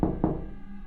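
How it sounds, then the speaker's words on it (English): Two soft, dull knocks on a door come in quick succession, close and muffled, then fade into a quiet, ringing stillness. "It sounded like a faint knock, 3 soft taps. It came from behind the basement door."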